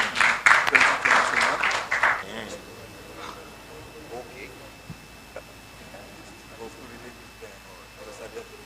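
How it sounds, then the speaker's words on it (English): Audience applause at a reliability conference in Africa, a burst of clapping for about two seconds that quickly fades into quiet room tone. "please, round of applause for him again."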